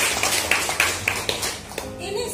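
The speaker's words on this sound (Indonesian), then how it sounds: "Tepuk tangan." A small group of teachers claps at a school meeting, loud, uneven individual claps close by, thinning out and fading toward the end.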